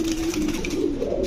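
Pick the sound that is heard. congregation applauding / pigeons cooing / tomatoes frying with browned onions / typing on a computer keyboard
pigeons cooing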